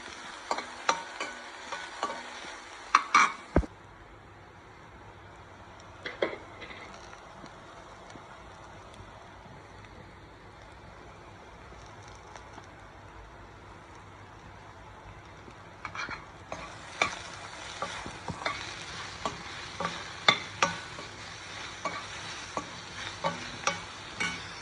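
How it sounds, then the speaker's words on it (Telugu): Brinjal fries in oil with salt and turmeric while a spoon stirs it in the pan. Bursts of scraping and sizzle open the clip, give way to a long quieter stretch of gentle frying, then dense stirring returns near the end. "కొంచెం ఆయిల్ వేసుకుంటున్నా. ఫ్రై అవ్వాలన్నమాట, బాగా ఫ్రై అవ్వాలి"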